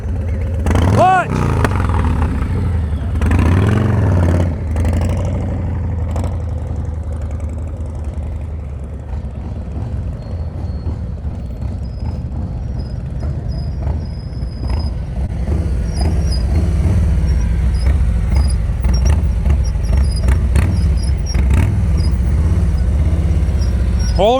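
Motorcycle engine during slow-speed riding practice, idling and blipping gently at low revs, near and steady with occasional throttle rises, while an instructor's voice talks over it.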